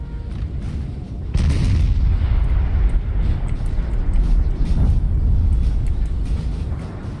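Artillery guns fire in a Napoleonic war video game set in 1814, a dense rumbling barrage of overlapping booms that swells after a quieter start and rolls on continuously.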